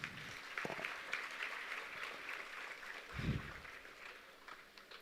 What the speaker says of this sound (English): let us welcome all our dignitaries with a huge round of applause